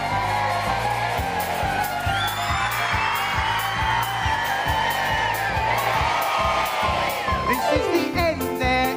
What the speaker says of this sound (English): I loved all your screaming and shouting.